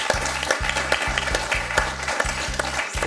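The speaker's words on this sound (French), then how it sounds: "On peut applaudir Jacques." A television quiz studio audience applauds a contestant in steady, rhythmic clapping over a low pulsing music bed.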